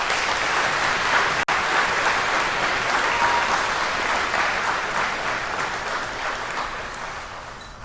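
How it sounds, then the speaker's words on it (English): Dense, sustained applause from an audience at a high school graduation ceremony. Steady clapping runs throughout, with one brief dropout early on, and slowly fades toward the end. "Please give her a big round of applause."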